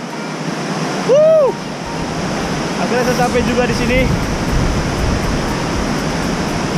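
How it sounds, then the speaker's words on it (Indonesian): Binanga Bolon waterfall in the Simalungun forest roars as a steady, loud broadband rush throughout, with strong wind and spray, while someone talks over it. "Ini dia air terjun Binanga Bolon."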